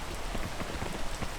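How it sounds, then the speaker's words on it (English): Steady rain from the video game PEAK patters continuously across the surface, a dense, even hiss of drops with no voices over it. "The first thing we need to do is just wait for the rain"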